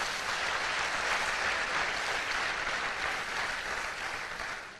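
Strong, even applause from an audience at a training session, continuous dense clapping that fills the room and tapers slightly at the end, with no talk.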